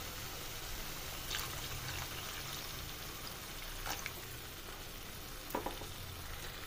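Room-temperature water goes into a pan of cooked spice masala, setting off a steady, faint sizzle and bubbling with a few soft stirring knocks and clinks.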